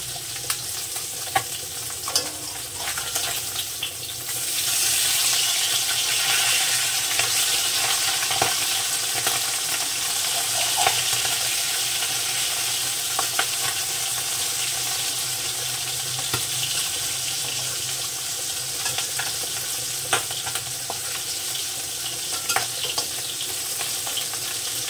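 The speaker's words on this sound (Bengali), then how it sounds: "মাছটা সুন্দর করে ভেজে নেব" Desi tangra fish fry in oil in a pan, giving a loud, constant bubbling sizzle with a few faint clinks and stirring noises and no talk.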